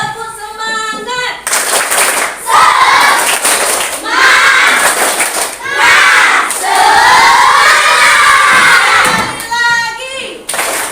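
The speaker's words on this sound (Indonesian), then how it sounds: "kita tepuk semangat dulu" A primary school class, standing up, performs a 'tepuk semangat' clapping chant, with loud rhythmic group clapping and children shouting the chant together in bursts over about ten seconds.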